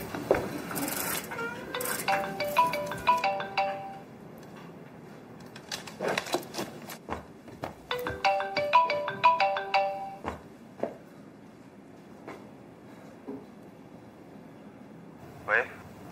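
A phone's melodic ringtone plays in two clear repeated bursts before the call is answered in a Chinese drama, with scattered clicks and handling noises between the rings.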